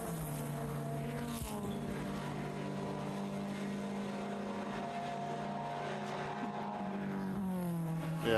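A Volkswagen race car accelerates down the straight at Watkins Glen, its engine whining steadily up through the revs with harmonic tones, faint and distant under broadcast ambience.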